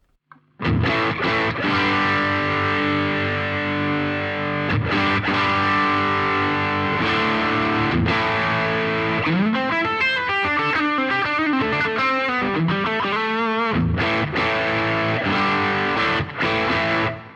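Electric guitar through a Vertex Effects overdrive pedal plays a sustained, gritty lead line with bends and fast runs, thick and saturated, continuing for a long stretch without speech.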